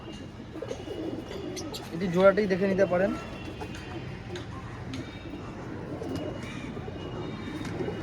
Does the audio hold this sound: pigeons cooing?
yes